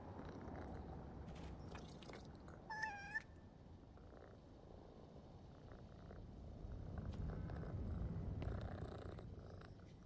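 A cat purrs steadily in PowerWash Simulator 2, a low continuous rumble running through the whole stretch with a short meow-like game chirp near the start, and no talking over it.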